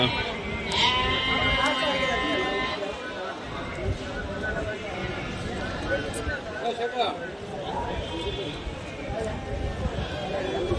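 Young goats and rams at a busy livestock market bleat in a dense overlapping chorus, with voices of traders and buyers mixed in and occasional hoof clatter.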